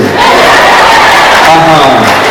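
A dense, loud crowd at a wedding celebration roars and cheers without a break, voices blending into one continuous wash of whoops and shouting.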